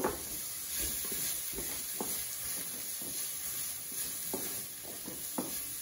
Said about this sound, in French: Nous allons suer tout ça avant de déglacer avec un jus de citron pressé.